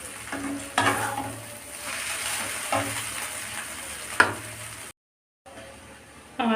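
Spice masala frying on low heat in a pan while making chowmein, a steady soft sizzle with a few stirring scrapes and clinks, close by, with a brief pause before the sizzle resumes.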